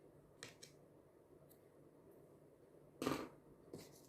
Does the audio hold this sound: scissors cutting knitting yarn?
yes